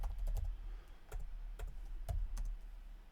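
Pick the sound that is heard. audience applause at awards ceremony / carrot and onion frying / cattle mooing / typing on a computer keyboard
typing on a computer keyboard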